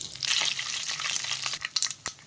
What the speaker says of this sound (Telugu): ఆయిల్ హీట్ అయ్యాక ఆవాలు, కరివేపాకు, ఒట్టిమిరపకాయ వేసి తిరువాత పెట్టుకోవాలి